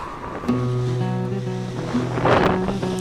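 A fishing boat's engine runs steadily at sea on a southbound trip to the fishing grounds, a loud continuous droning hum with sea and wind noise around it, no voices.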